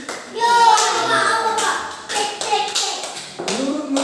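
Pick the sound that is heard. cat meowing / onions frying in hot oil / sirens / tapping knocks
tapping knocks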